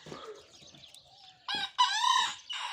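A Denizli rooster crows in loud, drawn-out calls that start at about 1.5 seconds, with a short call followed by a long one and then another beginning. Quieter clucking and bird noise come before the crowing.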